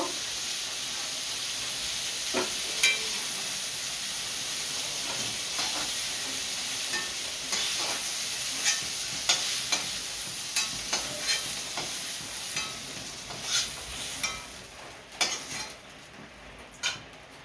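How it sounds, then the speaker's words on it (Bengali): Potato pieces frying in oil in a home kitchen, with a continuous close sizzle and hiss and repeated spatula scrapes and clinks against the pan that grow more frequent toward the end. "এই তেলে আলুটা ভেজে নেব।"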